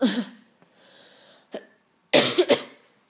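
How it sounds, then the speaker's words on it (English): Several harsh coughs from a person with a cough, a loud fit at the start, a single isolated cough midway, then a closer burst of two or three rough coughs near the end, with quiet pauses between. "It'll teach me to record when I have a cough"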